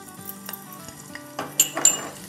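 Garlic paste sautés in a small pot on a medium flame, a soft sizzle with light metallic clinks and stirring scrapes, close and faint, with no voices.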